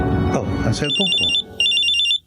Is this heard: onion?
no